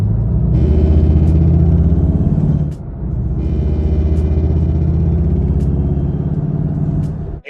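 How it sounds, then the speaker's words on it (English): A Volkswagen Golf R with a Stage 2 tune idles with a steady, loud mechanical drone from under the engine bay. A faint rattle runs through the hum, broken by a brief dip partway through. "There is a rattle coming from somewhere under the engine bay."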